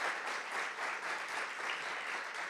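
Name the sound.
audience applause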